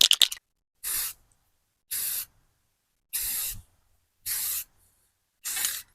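Five short, loud bursts of an aerosol spray can hiss in turn as tan camouflage paint goes onto a rifle, each burst separated by about a second of silence.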